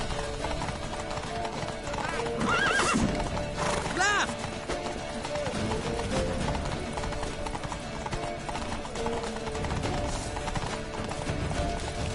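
Hooves clip-clop steadily as a horse gallops in a PS4 video game, with a couple of sharp whinnies rising early on, set against constant game-style background noise.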